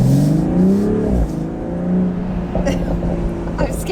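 BMW Z4 M with a turbocharged engine accelerating on a road, its engine note rising and shifting in close, steady sweeps that hold for a few seconds, with some faint background sounds.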